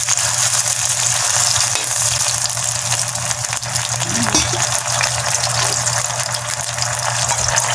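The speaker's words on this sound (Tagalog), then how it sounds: "Gisa natin ang sardinas kasi malansa kasi pag hindi ginisa." Sardines sautéing in a pan, a dense continuous sizzle with a low steady hum beneath it and no speech, close and fairly loud throughout.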